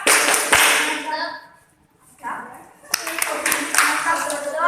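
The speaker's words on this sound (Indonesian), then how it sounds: "Berikan tepuk mantap untuk dua perwakilan dari kelompoknya tadi." Classroom of elementary students clapping together in bursts, loud and close, with a brief lull in the middle before the clapping resumes; a teacher's voice is heard alongside.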